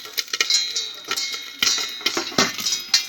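Irregular sharp pops and ticks of popcorn rattle inside a covered pot, some fast clusters, some isolated bursts, close and moderately loud.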